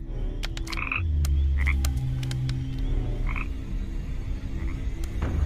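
A frog croaks at night, loud and close, in a run of repeated rough croaks over a steady low chorus, with scattered sharp clicks.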